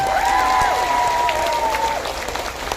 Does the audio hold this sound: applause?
yes